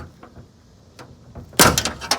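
A small plastic clip from a Foxbody Mustang door, removed during a window motor replacement, drops inside the door cavity with a brief clatter of rattling hits after a few quiet ticks.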